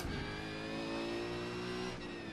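A V8 Supercar engine at Bathurst in the iRacing sim, roaring steadily at high revs with a strong, continuous whine, loud and close throughout, pitch climbing gradually before a brief dip near the end; no voices.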